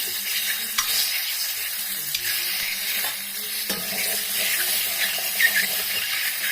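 Beaten eggs fry in hot oil in a wok seasoned with salt and turmeric, giving a continuous close sizzle broken by several sharp spatula clacks and scrapes against the pan.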